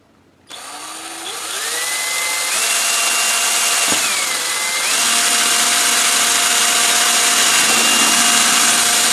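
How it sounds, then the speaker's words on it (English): A power drill whirs loudly and continuously, its motor pitch rising and shifting as it bores a hole through the edge of a plastic bucket lid, close up. "So let me go ahead and drill that."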